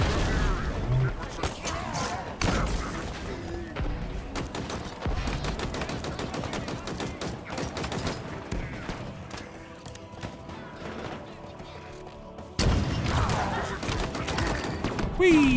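Sustained gunfire in the shooter Halo Infinite, dense rapid volleys and automatic bursts crackling nearly nonstop, with thumps and a loud surge near the end, as a player talks over the fighting.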